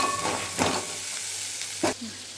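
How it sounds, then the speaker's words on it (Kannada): Garlic and onion frying in a pan for an egg and country chicken curry, a soft steady sizzle broken by a couple of louder stirring scrapes, close by. "ಈರುಳ್ಳಿ ಜೊತೆಗೆ ಚೆನ್ನಾಗಿ ಹೊಂದ್ಕೊಂಡು ಫ್ರೈ ಆಗಿಬಿಡುತ್ತೆ"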